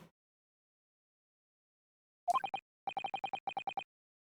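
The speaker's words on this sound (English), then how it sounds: "a meaningless series of two different tones" Music box disc in The Great Ace Attorney Chronicles plays a clipped series of alternating two-tone beeps, a short burst followed by two quick rhythmic runs, clear against silence.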